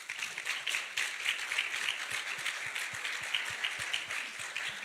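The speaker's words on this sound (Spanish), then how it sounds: "Un aplauso." Audience applause at a scientific talk on abortion, steady clapping from a crowd throughout, moderately quiet and continuous with no speech over it.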